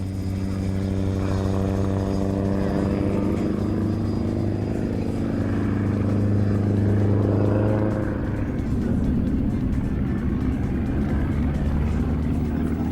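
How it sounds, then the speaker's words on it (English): A Sukhoi Su-31 aerobatic aircraft at the Farnborough air show gives a loud, steady engine drone that holds throughout and shifts in pitch partway through as it passes. "Another was a Sukhoi Su-31 flown by Brigitte de la Salle."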